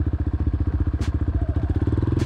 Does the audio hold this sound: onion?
no